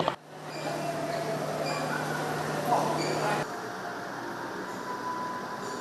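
A train rumbles steadily at Tugu station in Yogyakarta, a constant low drone with a faint squeal midway that drops off sharply partway through, leaving quieter platform ambience.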